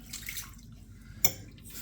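Water poured into a bowl sitting on a kitchen scale while starting a sourdough bread, a soft running trickle with a brief splash near the end.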